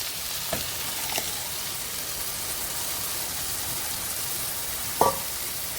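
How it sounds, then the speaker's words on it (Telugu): Chili powder and tomato puree fry in a pan under a constant soft sizzle, broken by a few distinct scraping stirs and a louder clank near the end, with no talking. "కారం వేసి ఇలా తిప్పుకొని కారం మాడకముందే టమాటా ప్యూరీ వేసేసుకోవాలి."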